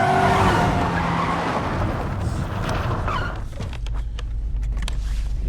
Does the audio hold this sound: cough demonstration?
no